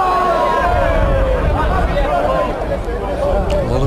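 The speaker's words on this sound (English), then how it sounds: "Big shout from the crowd." A crowd at a lawn bowls match in the All England semi-final rises in a loud, sustained roar of shouting and babble that fills the whole stretch without pause.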